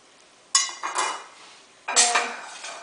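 Pieces of fish going into a metal pot for Persian fish stew, heard as two clattering bursts of pot and utensil clinks, each fading out, close and fairly loud, with no talking.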